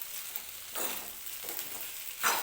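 Okra tossed with coarsely crushed peanuts in a pan, heard as quiet, intermittent stirring swishes and scrapes over a faint sizzle, three distinct strokes spaced apart; no speech.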